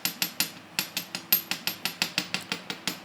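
A small hammer taps coiled colored wire to flatten it for earrings, a steady run of about fifteen light, sharp metallic taps, close and fairly quiet, with no talking.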